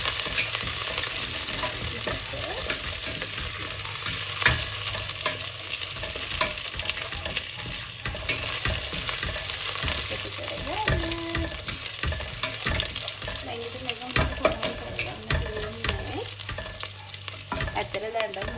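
Curry leaves and a pandan leaf frying in hot oil for a beef curry, a constant crackling sizzle with scattered pops and occasional scraping stirs of the spoon, close and steady throughout, no talking.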